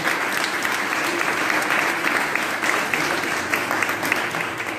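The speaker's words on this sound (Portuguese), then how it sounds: "Então vamos receber uma salva de palmas." A church congregation at a baptism service breaks into steady applause, many hands clapping in a dense, even roar that holds for several seconds with faint voices mixed in.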